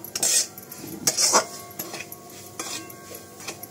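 A spoon stirs and scrapes semolina roasting in ghee in a pan over low heat for shira, giving close, intermittent metallic clinks and scrapes with no talking.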